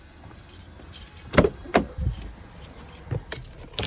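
Car keys jangle in two sharp bursts near the Range Rover L322 ignition, followed by softer metallic clinks and light rattles, close and clear with no talking.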